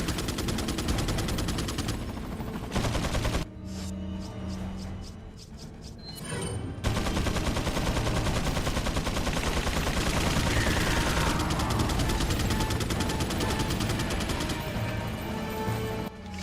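Gunfire in a video game, including shotgun blasts, with heavy sustained shooting and crashing impacts dominating throughout, loud and close, with occasional brief gaps.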